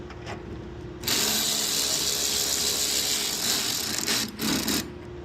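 A ratchet tightens a 3/4 inch bolt while installing splash guards on a 2023+ Jeep Gladiator, producing a loud, close, continuous clicking whir that breaks briefly near the end, with no talk.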